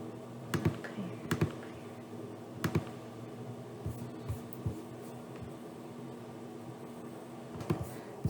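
Calculator keys are pressed one by one, giving sparse, soft clicks and taps spread over several seconds against a faint steady hum.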